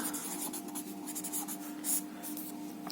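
Chalk or marker scratches steadily across a classroom board as a chemistry teacher writes a line of notes. The strokes are close and continuous, with a few brief louder scrapes and no speech over them.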